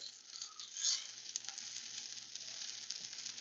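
Peaches and cream French toast frying in a pan, with a soft, steady sizzle running throughout at a fairly quiet level, with no voices.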